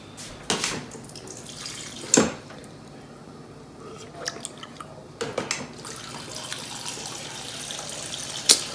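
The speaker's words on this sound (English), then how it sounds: "I'm about to get a cup of water." Tap water splashes and trickles in short bursts into a container, with clinks and handling noises in between, close up.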